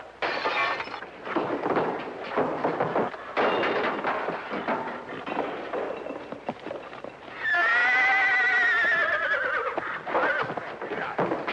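A horse gives a loud, shaky whinny after several seconds of scuffling and clattering noises, close and prominent.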